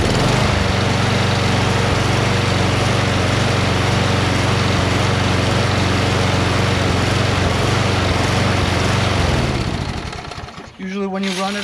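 A Craftsman 22-inch self-propelled lawn mower with a Briggs Quantum engine runs loud and close with a steady buzzing drone, then winds down and cuts off near the end.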